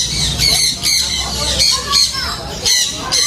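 Green monk parakeets at a bird market let out harsh, repeated squawks in quick bursts, loud and close, with a voice talking underneath.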